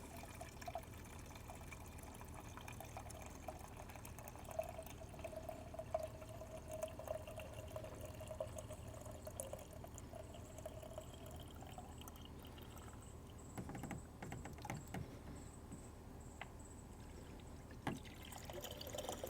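Antifreeze coolant trickles and pours from a Chevrolet Sonic coolant reservoir tank, a faint, steady liquid dribble against a quiet garage background, with a few soft handling knocks near the end.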